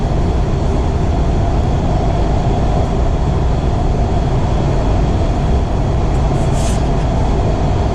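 A WMATA Kawasaki 7072 metro train on the Orange Line gives a constant, loud low roar and rumble, a steady droning noise throughout with a brief faint high whine near the end.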